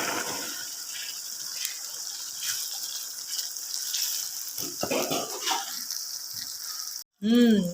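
Tomatoes and peas fry with browned garlic, ginger and onion for a mixed vegetable dish, giving a continuous close sizzle with bursts of louder hissing, then a short gap before a sharp final burst.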